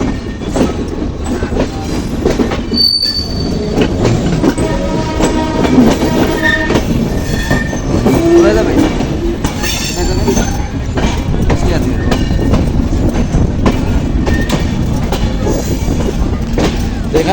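Madhumati Express train running from Ishwardi toward Rajbari, locomotive pushing from the rear with coaches ahead, rolls on steadily with loud continuous rumble and clattering wheels on the rails, close and filling the whole stretch.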